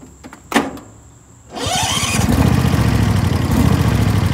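A lawn mower engine catches after a couple of short clicks and runs steadily at full throttle, a loud, continuous close-up drone that holds for the rest of the clip.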